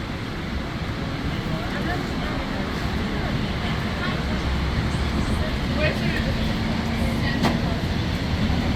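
Riding the JFK Airport AirTrain, a steady rumble and rolling hum of the train moving along, with faint squeals and rattles over a constant low drone.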